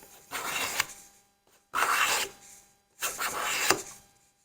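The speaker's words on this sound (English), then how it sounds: "With a scraper, you can actually remove that pretty quickly" A card scraper works across figured wood in three long, rasping passes, each lasting about a second with short pauses between, close and fairly loud.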